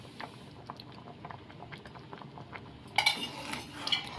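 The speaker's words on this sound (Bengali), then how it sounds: "ঘিটাকে ভালোভাবে মিক্স করে নিচ্ছি" A spoon mixes ghee into cooked sweetened daliya (broken wheat) in a pot, making soft, faint scrapes and taps that turn into a louder metallic clatter near the end, heard up close with no voices.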